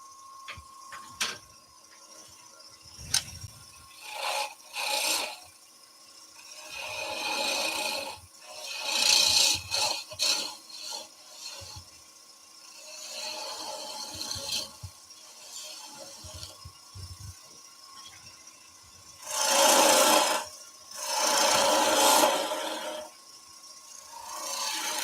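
Driftwood spinning on a wood lathe under a turning tool, giving intermittent rasping, scraping bursts of cutting that come and go in repeated passes, with quieter gaps and a steady motor hum between them.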